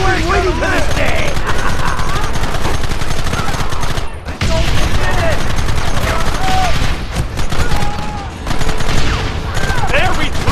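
Dense, continuous gunfire in a frontier battle, rapid overlapping shots and bursts crackling loudly with only brief lulls, with shouting voices mixed in among the volleys.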